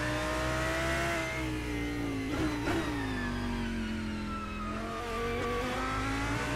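Lamborghini race car in a sim racing game, its engine droning steadily at high revs with smooth pitch sweeps as it shifts and accelerates, loud and continuous throughout.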